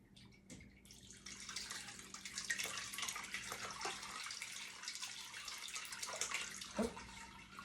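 Liquid is poured slowly through a strainer while making mozzarella, a steady, soft splashing and trickling hiss that runs for several seconds, with a few small clicks and a brief clatter near the end.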